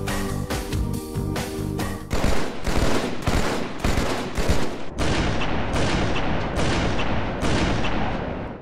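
Rapid bursts of gunfire from Halo Online fitted with a Halo 3 weapon sounds mod, with loud repeated shots and short volleys running back to back, a music-like tonal bed under the first two seconds, then steady firing alone.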